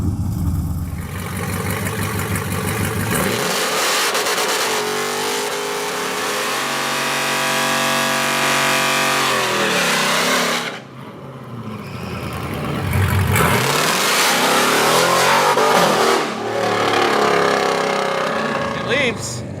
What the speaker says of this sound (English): I had to go to third because it just goes straight to the rev limiter, as you heard.